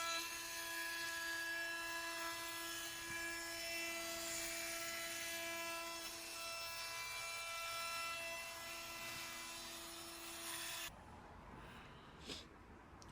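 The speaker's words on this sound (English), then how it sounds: "I'm just going over with a little round over to get rid of them sharp edges and sort of tidy everything up there" A small router with a round-over bit cuts along the edges of cut wood pieces, making a loud, steady, high-pitched whine for about eleven seconds before it stops abruptly, followed by faint handling noises.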